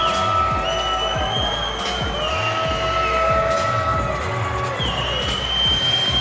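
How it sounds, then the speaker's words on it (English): A crowd at the AIGA 2025 Champions League final boos amid steady, dense arena noise that runs throughout without a break. "we're hearing some booing as well from the crowd now"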